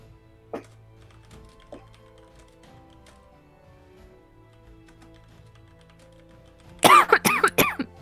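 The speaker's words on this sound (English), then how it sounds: "How dare you cough?" A short burst of several loud coughs close to the microphone, following a few faint taps in an otherwise quiet room.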